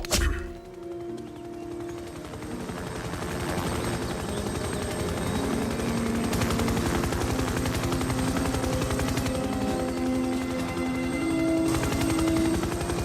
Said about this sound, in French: C'est l'hélico du général!